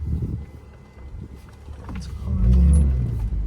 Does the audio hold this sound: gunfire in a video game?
no